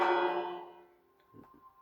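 A single bell struck in the Minecraft video game rings out loud and bright, then slowly fades, followed by a few faint clicks.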